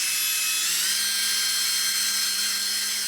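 A cordless drill drives a small water pump, giving a steady high-pitched motor whine with a faint rise in pitch partway through. The whine runs continuously and fairly close, with no talk over it.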